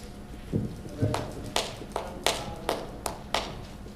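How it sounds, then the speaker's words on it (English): A music classroom group claps a short rhythm, about eight crisp, evenly spaced claps sounding fairly close and clear with little else around them. "let's think of a rhythm that we could clap"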